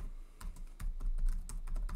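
Fast, uneven keystrokes on a computer keyboard during Unity game coding, a burst of close clicks and taps with no talking.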